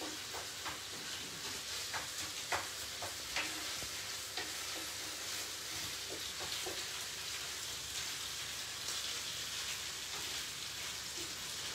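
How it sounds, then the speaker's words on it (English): Meat being stirred and pushed around a hot frying pan for Italian rice balls, a steady close sizzle with scattered scraping clicks throughout and no talking. "I move the meat."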